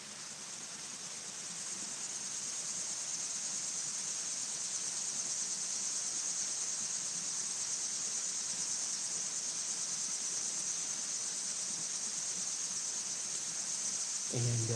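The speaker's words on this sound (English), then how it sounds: "can certainly hear the crickets and the waterfalls now" Crickets chirp at dawn beside a waterfall, a dense continuous high trill over the steady hiss of rushing water, with no voices.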